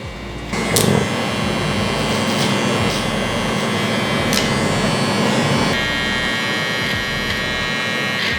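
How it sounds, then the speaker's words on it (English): Electric hair trimmer with a 1.5 guard buzzes steadily up close while fading a beard, starting with a short jump in loudness and then holding an even hum with small shifts in pitch. "I'm gonna flip the trimmer like this."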